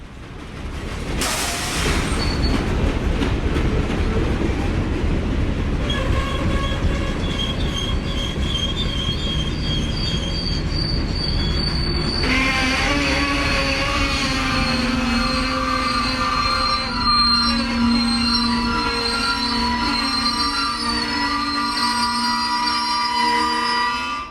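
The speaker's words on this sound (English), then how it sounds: "Listen carefully as the train loses its air and goes into emergency." A CSX freight train loses its air and goes into emergency braking, wheels squealing and brakes hissing loudly as it slows hard, with a steady metallic screech and rumble that builds and holds.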